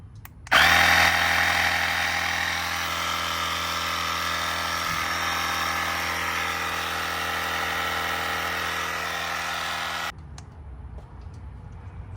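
An AUXITO electric air pump inflating a car tire drones loudly and steadily with a buzzing mechanical hum, then cuts off abruptly, leaving quiet room tone.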